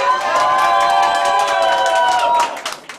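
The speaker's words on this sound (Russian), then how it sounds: "Аплодисменты!" Wedding guests burst into applause and cheering, a crowd of voices whooping and shouting over scattered clapping, loud and lively before tapering off sharply at the end.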